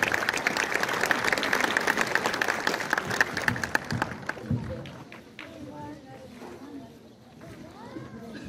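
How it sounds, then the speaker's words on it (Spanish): Audience applause at the inauguration of a children's club, loud dense clapping from a crowd for about four seconds, then fading to scattered claps and murmuring voices. "Un aplauso fuerte."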